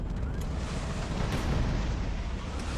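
HE shells fire in the naval combat game HighFleet, a loud, dense rumbling barrage of booms that blurs into a continuous roar with a few sharper bursts.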